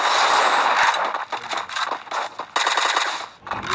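Gunfire in the Free Fire video game, dense bursts of rapid automatic shots with short gaps, loud and close, rattling on and off throughout.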